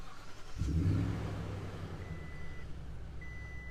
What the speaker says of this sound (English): Let's turn it on here, put on a brake, push to start.